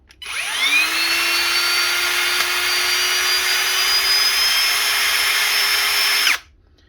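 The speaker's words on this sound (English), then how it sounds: "when I hit the trigger, the drill starts slower" A Ryobi brushless cordless hammer drill whirs up from rest, its motor pitch rising quickly then holding a steady high whine for several seconds before cutting off.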